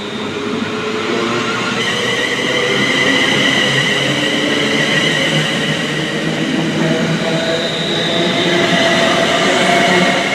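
A train sits in a station before departing, its engine holding a steady loud hum with a faint whine above it. The sound stays constant throughout, with no speech.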